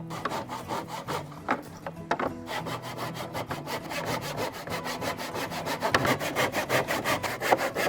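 A hand saw cuts through wood in a steady, close rhythm of back-and-forth strokes, loud and continuous, with no talk over it.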